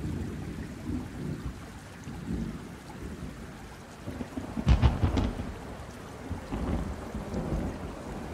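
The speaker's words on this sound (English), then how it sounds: "The approaching storm may seem violent and destructive to us, but to nature, it's a new beginning in the cycle of life." A thunderstorm closes in with steady rain, low rolling rumbles throughout and a louder thunder crack a little before five seconds, followed by further rumbling under the continuous downpour.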